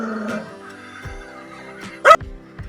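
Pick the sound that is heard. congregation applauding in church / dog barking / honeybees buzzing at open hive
dog barking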